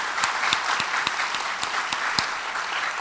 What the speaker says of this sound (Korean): 우리 한번 박수로 한번 뜨겁게 한번 격려하십시다